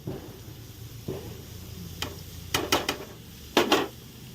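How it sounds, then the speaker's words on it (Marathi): Paneer tipped into spiced masala in a pan for paneer bhurji, giving a low steady sizzle broken by several sharp clinks and scrapes of a spoon against the pan, heard up close. "आता मी पनीर टाकून घेणार आहे"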